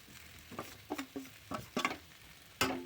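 Flat beans and spice-coated small fish fry in a pan, heard as a quiet sizzle broken by several distinct scraping and clattering stirring strokes, close up, no voices.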